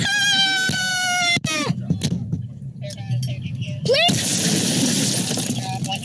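Car window glass shatters with a sharp crash during a roadside police stop, followed by tinkling fragments, with raised voices and shouting around it.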